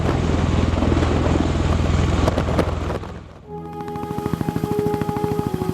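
An MV-22 Osprey tiltrotor aircraft flying close, a loud steady rotor and engine roar with rapid chopping pulses, dipping briefly midway before a fast, evenly beating rotor thump returns.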